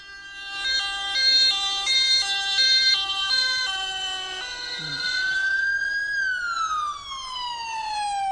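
An emergency vehicle siren, ambulance or police, sounds loud and close. It opens with a rapid stepped wail, then shifts into a long rising and falling sweep with no talk.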